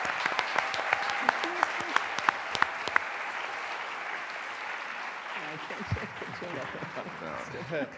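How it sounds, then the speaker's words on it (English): A panel audience gives a round of applause for Mohammed El Gharani, with dense, sustained clapping and some sharp individual claps early on. A voice begins talking over the fading applause toward the end. "let's give one more round of applause for Mohammed El Gharani"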